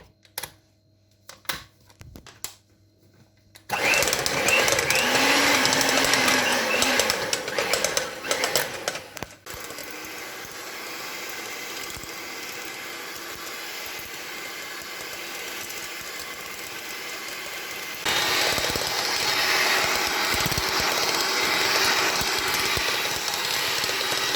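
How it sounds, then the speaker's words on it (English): A hand mixer with a dough attachment beats cooling profiterole choux dough, a loud, steady motor whir running continuously after a few quiet seconds of scattered clicks, its pitch and strength shifting slightly as it works. "I'm going to beat it with a hand mixer which has a dough attachment"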